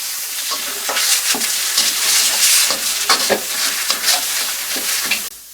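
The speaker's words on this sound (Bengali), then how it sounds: "তারপর কড়াই গরম হয়ে গেলে আমি দিচ্ছি, এটা হচ্ছে গরুর মাংস কিমা।" Around 300 grams of beef mince sizzles and fries in a hot karai, a steady loud crackle broken by scraping stirring strokes throughout, with no talking.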